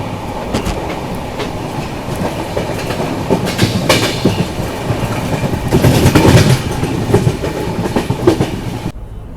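Amrit Bharat and Vande Bharat trains crossing, heard from aboard a moving Rajdhani Express, with a continuous rumble of wheels on rail, rhythmic clatter and sharp passing bursts, fairly loud and close.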